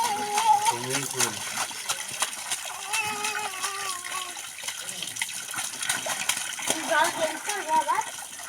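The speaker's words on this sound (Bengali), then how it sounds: "Swimming pool." Children splash in a swimming pool, with water sloshing and splattering throughout while excited young voices and shouts ring out over it, fairly close.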